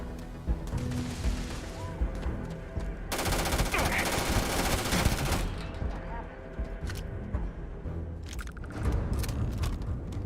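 Rapid automatic fire from a space gun in the sci-fi game Starfield, a dense burst of shots running for a few seconds mid-clip, loud and close, with quieter scattered game noise before and after.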